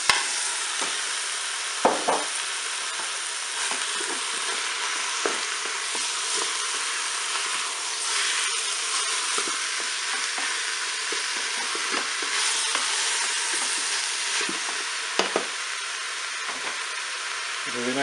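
Mushrooms frying and being stirred in a Cookeo multicooker for a beef roast with mustard: a steady close sizzle runs throughout, with occasional scraping stirs and light knocks.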